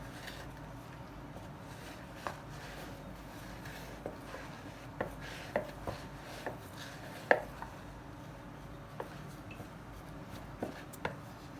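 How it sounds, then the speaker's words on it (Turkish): A spatula fluffs soaked fine bulgur for simit kebab, making faint, scattered taps and light scrapes against the bowl at an irregular pace. It is quiet and close, with no voices. "Şöyle bir spatula yardımıyla şöyle bir havalandırın."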